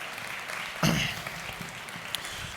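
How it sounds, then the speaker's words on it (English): A church congregation claps during a sermon, a soft, steady patter of many hands with a brief louder burst partway through, heard from some distance. "some of you are clapping because you're going, I think I have to"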